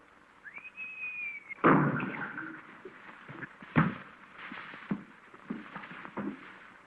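A single clear whistle rises and holds its pitch briefly, followed by a sharp burst and several scattered thumps and knocks.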